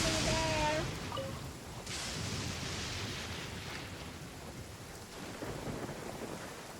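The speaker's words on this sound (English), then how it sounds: "Looks like it rains heavier here on Fontaine." Heavy rain and rumbling thunder in Fontaine from Genshin Impact, a steady broadband downpour with a louder burst at the start and swelling rumbles, continuous and fairly close.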